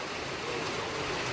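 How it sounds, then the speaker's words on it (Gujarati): Heavy rain pouring down during a storm with lightning, a dense, steady hiss of falling water that fills the whole short stretch without a break. "જોરદાર વરસાદ ચાલુ થઈ ગયો છે"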